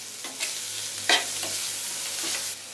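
Onions fry in a pan with turmeric and salt for masala dosa filling, giving a continuous close sizzle broken by a few quick stirring scrapes, with no voices.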